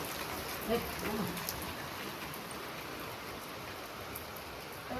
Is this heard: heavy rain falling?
yes